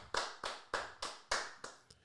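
A few hosts clap for a studio guest during a talk show: about seven loud, sharp claps at a moderate, slightly uneven rhythm, close by and with no voices over them.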